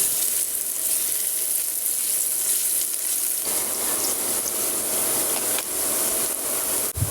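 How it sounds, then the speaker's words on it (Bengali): Steady hissing sizzle of onions frying in a little oil in a pan, continuous and fairly loud, with an occasional clink near the end. "একটি প্যানে অল্প তেল দিয়ে আধা কাপ পেঁয়াজ ভেজে নিচ্ছি"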